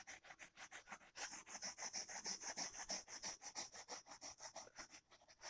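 A stiff brush lightly working a stained carpet during stain pretreatment, producing a quick, even rhythm of soft scratchy strokes, faint and close, with no talking.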